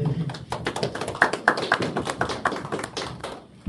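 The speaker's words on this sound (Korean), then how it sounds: "우리 박수 소리가 너무 작으신데" Audience clapping at an urban regeneration strategy forum, a short burst of moderately loud, fairly thin applause from a small crowd with no talking over it.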